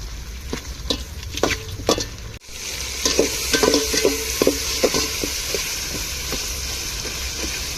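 Green chillies sizzle in hot oil in a pan while a spoon stirs them, sharp scraping strokes over a continuous close frying hiss, with a brief break partway through.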